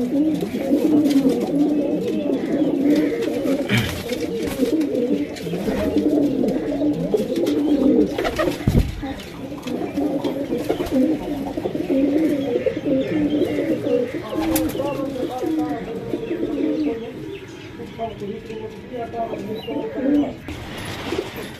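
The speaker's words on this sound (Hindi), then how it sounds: "ये सारे गर्दान फाइटर कबूतर ने" Fighter pigeons cooing repeatedly in soft, throaty bursts, nearby and continuous, with occasional chirps and someone speaking in the background.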